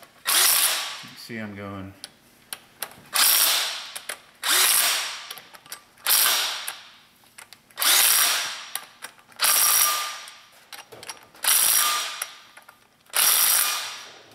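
Compact impact gun running down Honda S2000 transmission bolts, firing in repeated bursts of roughly a second each with short pauses between, close and loud, with a brief voice near the start.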